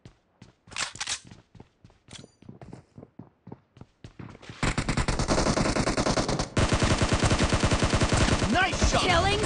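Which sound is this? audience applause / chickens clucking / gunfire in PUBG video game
gunfire in PUBG video game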